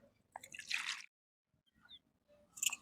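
Small, medium-sized thorny brinjals are washed by hand in water, giving close, quiet, intermittent splashes and drips in short bursts separated by silence.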